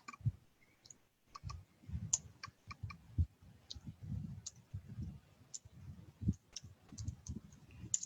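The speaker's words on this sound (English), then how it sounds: "So now I'm going to type another address here." Computer keyboard typing up close, a quiet irregular run of soft key clicks and taps with brief pauses, no voices.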